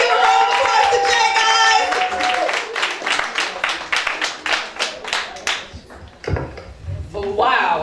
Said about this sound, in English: Y'all give a round of applause to Jay